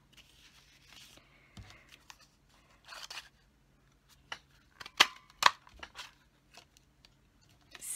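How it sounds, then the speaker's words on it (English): Scissors snipping paper tulip shapes for a handmade card, a quiet run of small crisp cuts with a few sharper snips in the middle, close by and alone. "So I'm going to cut several of these tulips, and I'll cut an extra one for good measure"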